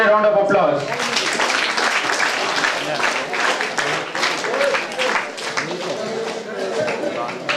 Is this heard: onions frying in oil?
no